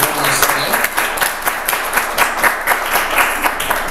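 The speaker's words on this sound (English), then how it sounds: "Let's give them another round of applause." Audience applause fills a community history speaker series event, steady dense clapping throughout at close range with no voices over it.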